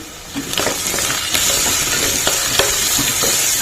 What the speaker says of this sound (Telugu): ఇక్కడ పసుపు వేసుకొని దీన్ని కూడా మొత్తం మిక్స్ చేసేద్దాం